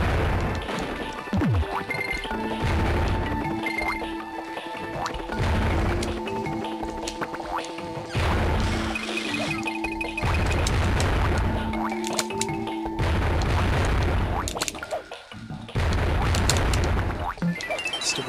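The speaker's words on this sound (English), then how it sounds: "Stupid pothole bombs." Repeated loud explosive booms and crashes from pothole bombs in a Donkey Kong Country 3 cave level, bursting one after another over continuous game music.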